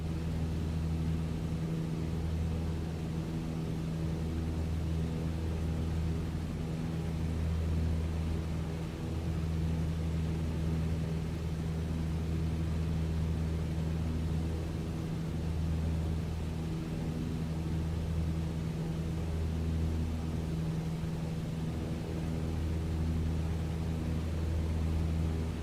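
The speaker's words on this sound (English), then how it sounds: "that's what it would sound like if you were wearing headphones in the airplane" Steady low-pitched cabin drone fills a small airplane in flight, a constant engine hum with a faint periodic throb. It plays alone, with no one talking.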